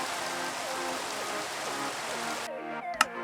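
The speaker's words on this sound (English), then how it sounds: "I'm trying to drown out the stupid rain sound" Steady rain in the game Minecraft, a dense, even hiss that fills the clip and cuts off abruptly near the end, leaving a brief quieter moment with a single sharp click.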